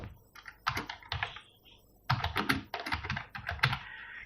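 Rapid keystrokes on a computer keyboard while entering data into a Microsoft Excel spreadsheet, clicking in quick bursts with a short pause in the middle, close and clear with no talking.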